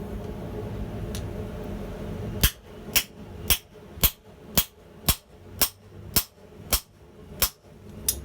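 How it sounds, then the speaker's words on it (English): A hammer taps on a steel tube held in a heavy guillotine forging tool, about eleven evenly spaced, sharp metallic strikes at a steady rhythm, close and crisp over a low background hum. "I'm just lightly hammering, and I can feel the material moving very easily."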